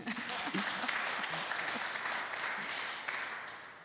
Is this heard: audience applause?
yes